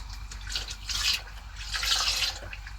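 Coconut oil is poured into a blender in two soft, trickling splashes with a pause between them, heard up close against a low background hum.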